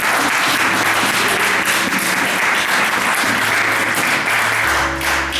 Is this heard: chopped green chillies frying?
no